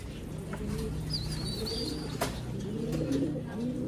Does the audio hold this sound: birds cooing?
yes